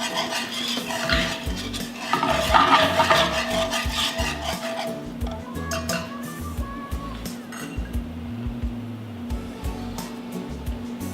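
Spoon scraping crispy steak bits from the bottom of a hot skillet, repeated rough stirring and scraping strokes over a soft sizzle, close and fairly quiet.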